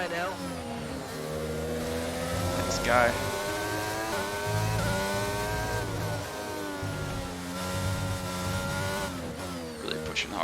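Formula 1 car engine from the F1 22 racing game, a steady high-pitched whine shifting through gears over about ten seconds, with someone talking over it throughout.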